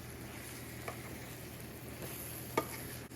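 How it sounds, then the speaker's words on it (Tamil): Potato masala with garam masala is stirred in a pan over gentle heat, a soft sizzle underneath with a few scraping spoon strokes, one sharper clink near the end, close and quiet. "கரம் மசாலாவை போட்டு நல்லா மிக்ஸ் பண்ணி போட்டு"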